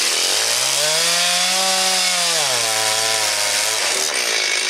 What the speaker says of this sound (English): We're gonna switch to the super junk chain now and see if we can cut down into the dirt.